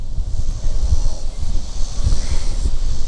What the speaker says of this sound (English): We have some wind.